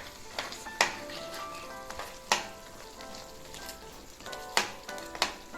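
Crab masala with ground coconut being stirred in a pan: a soft, steady sizzle of cooking masala broken by several sharp scraping and clinking strokes as the spoon works through the gravy, with no talking.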